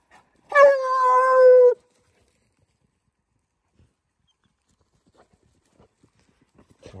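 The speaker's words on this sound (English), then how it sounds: "Freaking puppy barking in the box is driving me insane." A single drawn-out hound puppy bark, almost a yowl, rings out clearly from inside a dog box for about a second, followed by near silence with a few faint knocks.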